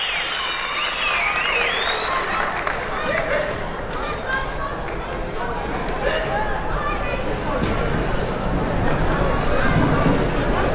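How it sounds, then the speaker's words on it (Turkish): Applause rises around 61 kg champion Merve Çoban of Turkey as she acknowledges the crowd, a continuous wash of clapping mixed with crowd chatter and arena hubbub over the full stretch. "Seyirciyi alkışlıyor."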